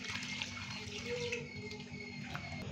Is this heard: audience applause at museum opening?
no